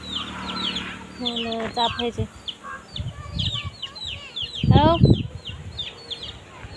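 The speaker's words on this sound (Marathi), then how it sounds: "कोंबड्या, छोटे छोटे पिल्ला" Hens cluck and small chicks cheep at a farmhouse, with a brief crowing note. A person talks close by between the bird calls.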